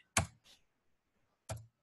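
Keystrokes on a computer keyboard, two quick close clicks followed by a pause and another single press, quiet and isolated in a still room.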